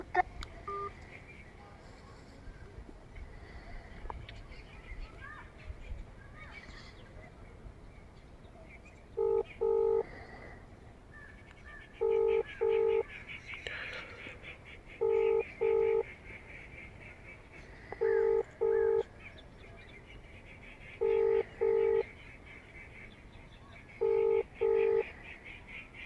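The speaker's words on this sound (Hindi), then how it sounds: "जेई साहब की रिंग जा रही है लेकिन कॉल नहीं उठाई जा रही" A phone ringback tone repeats in evenly spaced double beeps, six rings in a row, with no one picking up, over faint background noise.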